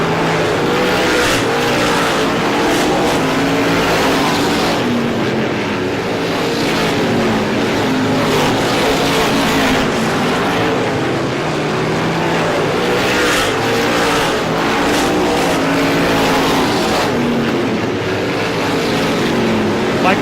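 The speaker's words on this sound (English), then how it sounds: "with a very fast race car" Race cars roar around a short speedway oval during the ISMA Classic 150, with engines loud and continuous as the cars pass close by.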